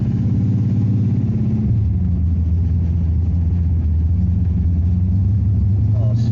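A 1964 Dodge 330 with a 608-horsepower Max Wedge engine rumbling low and steady while driving, the tone shifting once early on, continuous and close.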